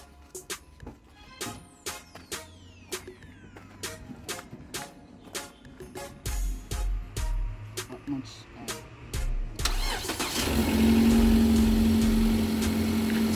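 A 2014 Nissan Lafesta with 275k on it cranks after a battery install and catches, settling into a steady, loud idle, preceded by clicks and clattering.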